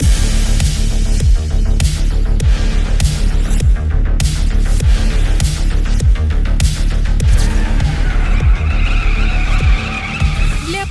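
BMW M2 coupe with full tuning in a GTA video game drives with a loud engine and repeated tire skids and squeals in short bursts. The sound is close and continuous and grows busier near the end.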